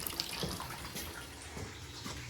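Rusty water running out of a pipe on a large gas-fired Columbia steam boiler feeding a 1920s Dunham vapor heating system, a steady, fairly faint splashing flow with no voices.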